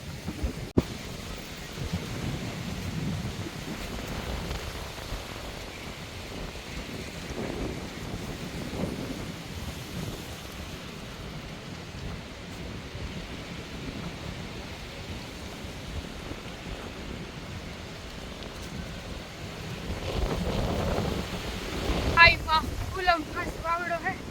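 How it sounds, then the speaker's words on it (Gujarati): A strong windstorm blows outdoors, with gusts buffeting the microphone in a low, rumbling roar that rises and falls and grows stronger toward the end. "વાવાઝોડું પાછું વાવાઝોડું ચાલુ થઈ ગયું"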